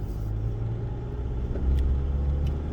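A Force Gurkha 2021 SUV on BF Goodrich tyres making a simple U-turn; its engine and road noise form a steady, close low rumble that swells slightly toward the end, with no voices.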